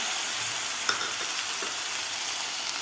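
Vegetables sizzle in a hot pan with sautéed onion, a steady frying hiss broken by a few soft stirring scrapes, close and without talk.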